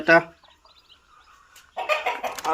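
A hen clucks at a desi poultry farm in Assam where chicks have hatched, a short loud cluck followed by soft chick peeps, with a person talking toward the end.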